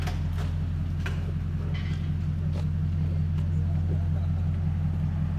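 Toyota Tundra 5.7L V8 with true dual Flowmaster Super 10 exhaust, a loud steady low rumble droning continuously throughout, with faint higher knocks and noise above it.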